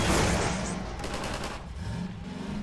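Rapid bursts of enemy gunfire in Half-Life 2, loud and dense at the start, then thinning into scattered clattering shots over a low rumble.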